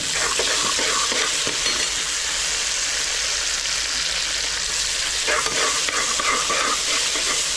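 Onions and chopped coriander leaves sizzle steadily in a pan while being stirred, with occasional scrapes of a spoon against the metal, close and continuous throughout.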